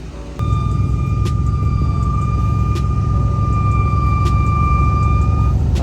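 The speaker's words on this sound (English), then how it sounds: "Got some squeaky brakes." A car's brakes squeal at a track day: one steady high-pitched screech starts abruptly and holds for about five seconds over loud engine and road rumble.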